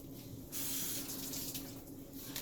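Water from a tap runs steadily, wetting hands for a homemade African black soap scrub. It sounds as a close, broad hiss that switches on after a brief pause and keeps flowing without interruption.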